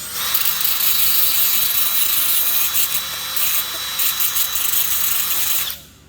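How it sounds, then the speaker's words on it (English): A power drill spinning a round metal bar whirs steadily at high speed for several seconds, loud and close, with slight load changes, then winds down and stops near the end. "Put that in the good old drill."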